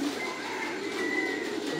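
Pigeons coo softly in a raised loft, low murmuring calls running steadily under a faint background hum, with no speech.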